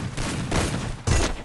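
Gunfire in the mobile battle-royale game Free Fire comes in three quick bursts of rapid shots, close and fairly loud, with no talking.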